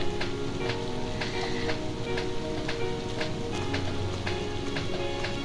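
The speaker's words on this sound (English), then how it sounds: "Oh, it's raining." Rain in the video game Trails of Cold Steel makes a steady, dense patter with scattered sharper drops over a low hum, continuous and moderately loud throughout.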